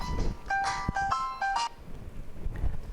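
A phone rings with a few short electronic tone bursts in quick succession, moderately close and fairly quiet, then fades to faint room noise.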